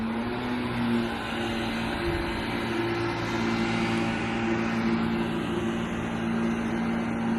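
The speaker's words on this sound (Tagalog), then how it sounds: "Kotse lang pala." A car passes along the street outside a house. A low steady engine hum swells gently toward the middle and then eases off, with no talking.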